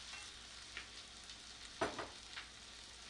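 Boneless lamb shoulder cubes sear in a pan with a steady, fairly quiet sizzle, broken by a few soft scrapes and clinks as the meat is stirred, heard close and without talking.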